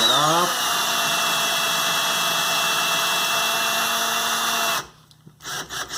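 A power drill rolls threads onto bicycle spokes held in a jig, a steady high whine that runs evenly for several seconds before cutting off abruptly, followed by faint clicks.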